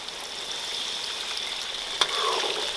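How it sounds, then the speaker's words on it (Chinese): Chili bean paste and hotpot base fry in a wok with a steady, close sizzle. A sharp burst near the end marks water being poured in, and the crackling hiss grows brighter. "把它们全部炒化、 炒香之后，就可以加水了"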